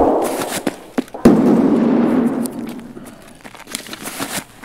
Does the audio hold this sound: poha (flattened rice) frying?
no